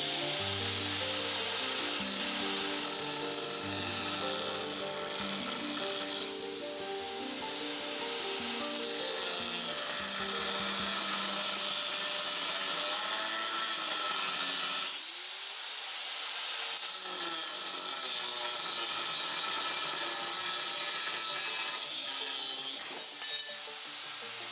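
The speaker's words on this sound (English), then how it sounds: "I'm going to cut this excess off." Excess material being cut off a homemade off-road light mount, a long continuous rasping cut with steady hiss, briefly pausing midway and resuming before a sharp stop near the end, no voices.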